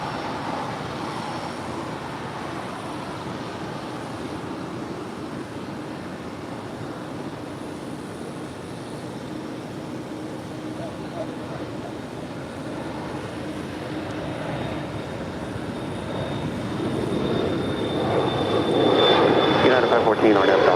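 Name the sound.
American Airlines Airbus A321 airliner arriving at LAX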